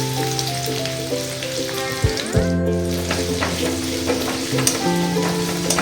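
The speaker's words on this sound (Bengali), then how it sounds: "তারপর রসুন কুচি আর লঙ্কা কুচি নিয়ে একটু সতে করে" Chopped garlic and green chillies sauté in hot white oil in a kadai, making a steady close sizzle punctuated by light spatula scrapes and a brief clatter midway, with no talking.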